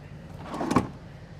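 A drawer slides open in the kitchen of a 2025 Newmar King Aire 4558 luxury motorhome, a brief soft rolling swish that peaks and fades within about a second.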